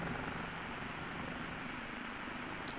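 Steady, dense rotor and turbine drone of an OH-58D Kiowa Warrior helicopter hovering in the DCS flight game, a constant unbroken roar with a tiny click near the end.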